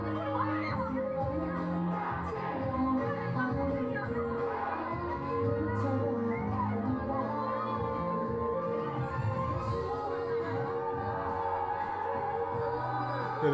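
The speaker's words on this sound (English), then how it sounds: "The crowd is so feeling it, bro." Concert crowd at a live show, a dense roar of cheering and shouting fans going on throughout, heard through playback at a moderate distance under faint talk.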